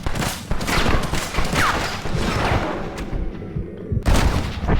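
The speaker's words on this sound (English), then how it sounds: "So I can hear gunshots, he escaped." Dense bursts of gunfire in the video game Red Dead Redemption crackle and boom continuously, loud and chaotic, with overlapping shots and a brief lull near the end.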